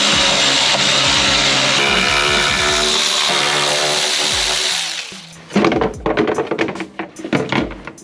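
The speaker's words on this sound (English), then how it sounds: "Then you'll follow that up with removing all the screws for the cover" Cordless power tool spinning out the screws of a Can-Am X3 clutch cover, a loud steady whirring burst that cuts off, followed by clattering handling and ratchety clicks up close.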